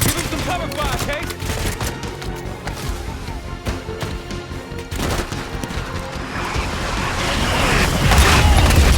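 A dense, continuous barrage of cover gunfire in Call of Duty: Black Ops 6, with rapid automatic bursts, mechanical clatter and booms layered with shouted voices, loud and close throughout.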